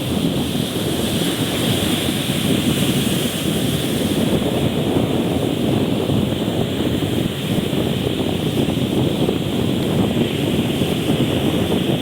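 Strong typhoon wind roars continuously, buffeting the microphone with a dense, rumbling rush that stays loud and unbroken throughout, no voices.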